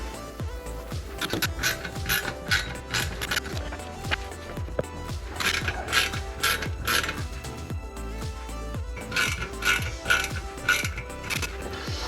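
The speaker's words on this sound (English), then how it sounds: "we're going to put 4 NM screws up here" Small screws being driven into the windscreen frame of a FanHome DeLorean Time Machine scale model, giving a steady, close run of fine ratcheting clicks with no talking.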